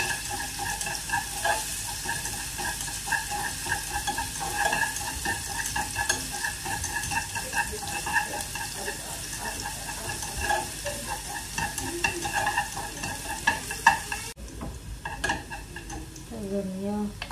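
Garlic sizzles and crackles in hot oil in a pan while fish curry is being made, a steady frying hiss with occasional stirring scrapes, ending in a softer, quieter stretch.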